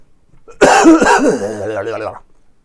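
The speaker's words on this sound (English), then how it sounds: "Hang on, I'm going to cough one more." A single loud, close cough followed by a drawn-out, voiced throaty groan that fades away.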